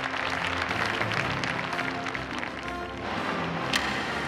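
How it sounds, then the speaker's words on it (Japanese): Gamba Osaka supporters at Panasonic Stadium applaud as players walk onto the pitch before the home opener, giving a steady, fairly distant wash of clapping that fills the stadium for about four seconds. "待ち焦がれた選手たちを拍手で迎えます。"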